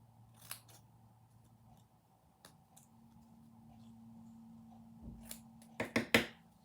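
Scissors cut paper card along a template for a greeting card. A few quiet snips come early, then sharper, louder cuts cluster near the end over a faint background hum.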